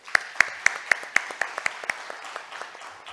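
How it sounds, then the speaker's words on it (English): A few audience members clap at a shipping technology conference, sharp separate claps at first that thin out and fade over about three seconds. "with a round of applause, please."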